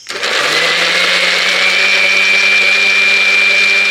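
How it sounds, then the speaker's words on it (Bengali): A mixer grinder whirs steadily as it blends mango into a paste, a loud, continuous motor drone with a high whine that starts abruptly and holds at constant strength throughout. "মিক্সিটা ঘুরিয়ে নিচ্ছি"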